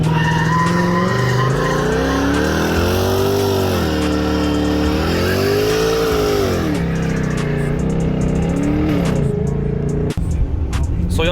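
A Mustang 5.0 doing a burnout, engine roaring steadily with rising and falling revs over a continuous loud tire squeal, close and sustained, then cutting off sharply near the end.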